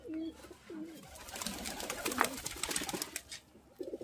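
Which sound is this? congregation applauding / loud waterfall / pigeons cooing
pigeons cooing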